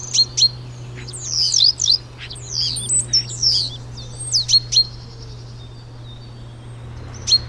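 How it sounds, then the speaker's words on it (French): Several common starlings give chattering, whistling and clicking calls in quick irregular bursts, fairly close, over a constant low hum. "On entend les étourneaux aussi."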